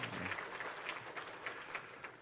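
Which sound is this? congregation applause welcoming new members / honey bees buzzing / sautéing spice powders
congregation applause welcoming new members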